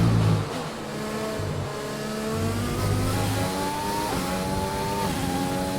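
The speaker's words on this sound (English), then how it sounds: "I've reduced my engine to standard mode" A Formula 1 race car engine in the F1 2020 racing game, a loud, steady high-revving drone with rising pitch sweeps as the car accelerates through the gears, running alone without talk.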